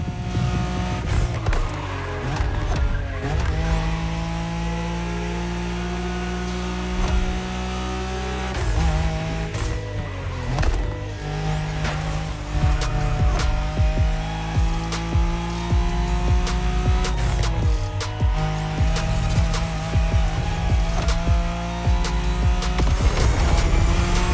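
A Nissan Skyline roars through a street race in The Crew Motorfest, its engine revving hard and climbing through repeated gear shifts, with bursts of tire squeal and skidding. The sound is loud and close, with no talking.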